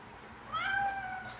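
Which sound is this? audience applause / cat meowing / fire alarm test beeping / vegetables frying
cat meowing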